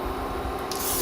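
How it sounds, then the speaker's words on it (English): A short hissing burst of cooking oil spray from an aerosol can into a pan, steady and close, with a brighter hiss toward the end. "some cooking oil spray in there"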